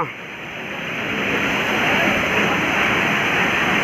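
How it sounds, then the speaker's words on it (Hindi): A waterfall on the Balkhila river near the Atri Muni cave in Chamoli, Uttarakhand, gives a steady, close, full roar of rushing water that swells slightly and holds without a break. "ये बालखिला नदी पे झरना है"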